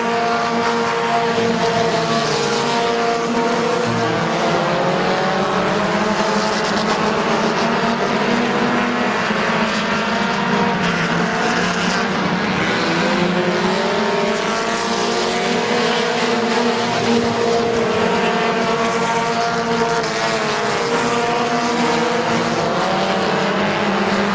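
Race cars roar around the track at Midvale Speedway, a loud continuous blend of several engines whose pitch rises and falls as they pass, with no break in the noise.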